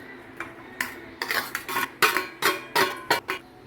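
Mashed taro (arbi) being mixed with cutlet ingredients in a bowl, heard as a series of irregular clinks and scrapes of a utensil against the dish, fairly close, with no talking.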